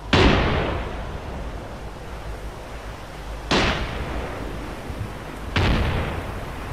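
Three mine explosions in the military video game ArmA 2 ACE, each a sharp boom with a fading rumble, spaced a few seconds apart against faint background noise.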